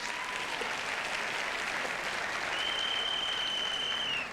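A school quiz-competition audience claps in a dense, sustained round of applause, with a single shrill whistle cutting through near the end.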